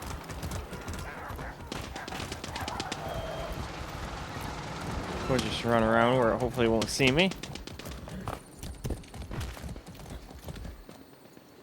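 Rhythmic hoof clip-clops from Far Cry 6 run under someone talking, with a horse whinny in the middle and busy game noise around it.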